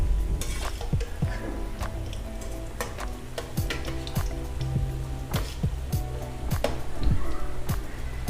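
Spinach pakoras sizzle steadily in hot oil, with a close, continuous frying hiss broken by sharp clicks and taps of a utensil as the fritters are flipped.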